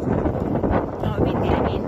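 Wind buffets a frozen lake in a snowstorm at about minus 16, a steady rough roar pressing on the microphone close up, with a voice speaking over it.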